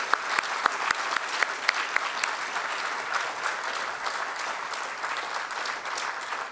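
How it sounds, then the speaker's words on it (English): An audience at a human rights memorial lecture breaks into steady applause, a dense sustained clapping from a crowd that holds at a fairly even level throughout, with no speech over it. "I think you deserve a round of applause"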